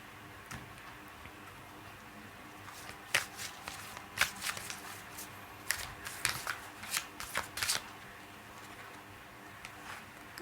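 A Moonology oracle card deck is shuffled in quiet, uneven bursts of soft riffling and tapping clicks, with no talking.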